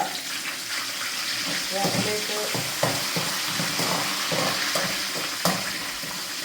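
Shallots and curry leaves fry in a clay pot for a Kerala prawn curry, a steady close sizzle with scattered stirring clicks and scrapes running throughout.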